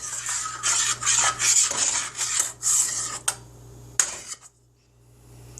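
A spoon stirring baby formula thickened with arrowroot flour in a container, close scraping swirls in quick repeated bursts for about three seconds, followed by a couple of sharp clinks and then quiet.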